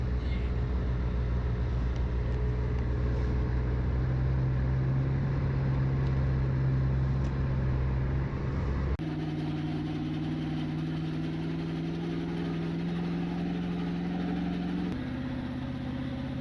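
A stranded Nissan stuck in a snowstorm runs its engine in a steady low drone, with the pitch stepping up partway through and shifting again near the end as it is given gas.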